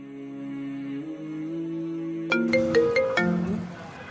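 A phone ringtone plays: a sustained electronic melody followed by a quick run of bright, chiming notes, alone without any talking.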